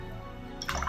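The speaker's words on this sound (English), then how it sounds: "Make sure to wash off your brush really well." A paintbrush swished and rinsed in a water cup during watercolor painting of a white pumpkin, with soft liquid drips and squishy splashing that swell toward the end of a short, close take.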